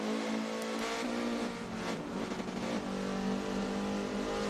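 Two race cars scream down a back straight at full throttle during a Good Friday circuit race, their engines loud and sustained, pitch wavering as they accelerate together without any talk.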